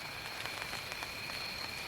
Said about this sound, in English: Pitter pattering down on the tarp